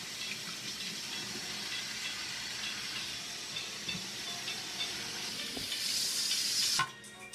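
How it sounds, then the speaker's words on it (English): Potatoes and eggs boiling in a pot of water on the stove give off a steady, close bubbling hiss that swells slightly toward the end before cutting off abruptly. "So while this is boiling, you want this to boil until the potatoes are soft."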